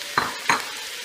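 Mushrooms sweating in a hot pan for spaghetti, two quick stirring scrapes close up over a soft, steady sizzle.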